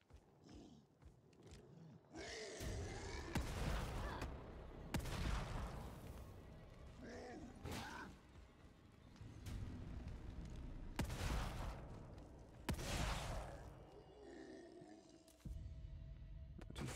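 Gunshots ring out in The Evil Within 2, several loud sharp blasts spaced a few seconds apart, mixed with roaring creature noises and heavy game ambience.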